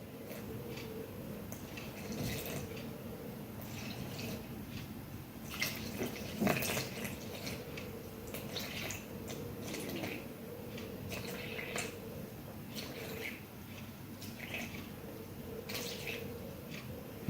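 Water poured into a sourdough mix in a bowl, a soft, steady trickle and splash with small drips and squishy wet sounds, fairly quiet and close, with no talking.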